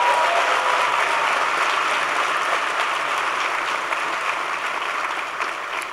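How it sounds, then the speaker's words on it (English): Sustained applause from a large town hall audience for U.S. President Barack Obama's event, a broad, even roar of many hands clapping that holds steady and eases slightly toward the end. "Give them a big round of applause for their support"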